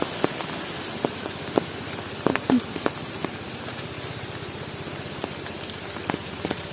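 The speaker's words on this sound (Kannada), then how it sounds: "ಬರ್ಸ ಪೂರ ಜೋರುಂಡು" Heavy rain pours down in a village as a dense, constant hiss, dotted with scattered sharp drips and taps close by, and no voices.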